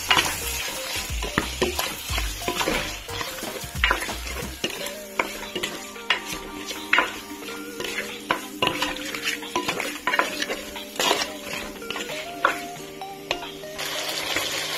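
Chicken with salt and turmeric is stirred in a sizzling pan for chicken drumstick curry, a spoon scraping and clinking against the metal repeatedly over a steady, close frying hiss.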